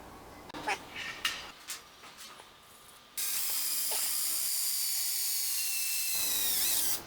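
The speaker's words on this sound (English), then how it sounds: "I will drill the holes and the hole for the wires" A few mechanical clicks and clunks, then a power drill whines steadily at close range for several seconds while drilling holes in a metal bracket, before winding down.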